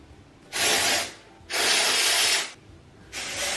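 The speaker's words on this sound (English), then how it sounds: "I'll just spray it directly to my roots" Three bursts of aerosol hair spray hiss up close as it is sprayed onto hair roots, each lasting about a second, separated by brief quiet gaps.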